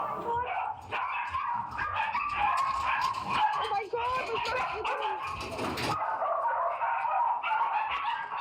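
Several dogs in a puppy trafficking kennel bark, yip and whimper almost without pause, a busy chorus of close, high-pitched yelps, with a voice talking over them.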